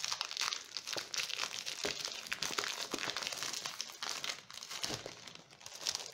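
Galaxy and star-themed scrapbooking papers are handled up close, with continuous crinkling and rustling sheets and a few sharper crackles, fairly quiet and with no talking.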